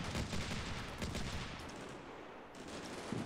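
Mortar rounds and gunfire rattle in the combat video game Combat Mission Shock Force 2: dense, overlapping bursts and thuds of a fusillade, moderately loud and continuous without pause, no talking heard.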